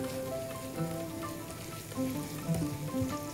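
Onions sautéing in a pan with spoonfuls of tomato paste, a steady close sizzle with soft crackles and light stirring, no voices.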